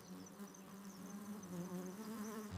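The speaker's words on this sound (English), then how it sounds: "Its wings hum with a terrifying, high-pitched buzz." A hunting wasp's wings give an animated story effect: a continuous droning insect buzz with a wavering pitch, fairly quiet and steady throughout, with no voices.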